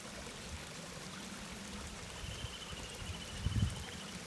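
Waterfall stream flowing down a hillside, a steady soft rushing and trickling wash, fairly faint and continuous, with no voices.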